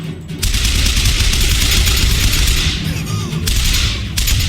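Sustained gunfire in the shooter game Bioshock Infinite, a loud, dense stream of rapid shots with booming impacts, continuous through the whole stretch with brief dips.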